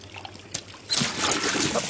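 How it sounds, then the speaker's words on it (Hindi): Running water that starts abruptly partway through, a steady close hiss and splash after a brief quiet lead-in with faint background sounds. "पानी बंद कर।"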